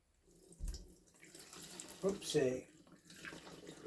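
Liquid ceramic chain wax pours from a holed bag while being decanted, a short splashing, trickling run of pouring with brief thumps, heard close up beneath a quick spoken exclamation.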